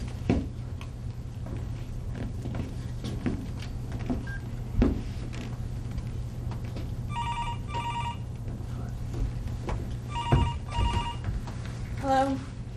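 A desk telephone is dialed, with short tonal beeps in two bursts, then a ring near the end, all over a steady low hum and occasional clicks in an office setting.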